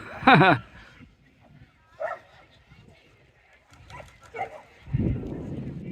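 A dog barks sharply once, followed by scattered smaller yips and whimpers at a distance on a rainy seafront, with people talking and a burst of noise at the end.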